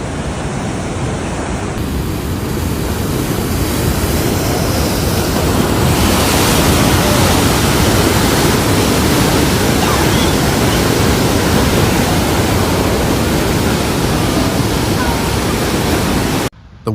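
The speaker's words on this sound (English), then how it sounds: "the waves crashing on the coast, causing damage to roads, loose items, and some vehicles" Massive ocean waves crash steadily onto the California coast, a loud continuous roar of surf and wind noise that fills the whole stretch with little letup.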